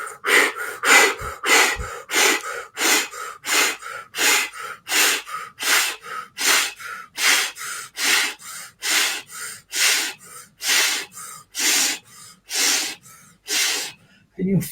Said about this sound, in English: we're just going to go rapid breathing to this part of the heart here, the chest here